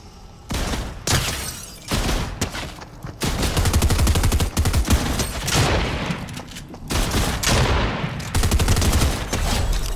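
Two-shot shotgun blasts in a video game match, loud close bursts fired in quick clusters with short gaps between them, nothing else covering them.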